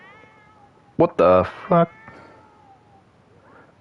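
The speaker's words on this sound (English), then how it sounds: "the cats are playing or fighting with Jasper" Cats in The Sims 4 let out a burst of loud, close meows and yowls, three quick cries in a row, as if playing or fighting, and a man exclaims in surprise over them.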